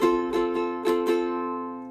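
A ukulele is strummed with a pick, a few quick, bright strums ringing out and letting the chord decay.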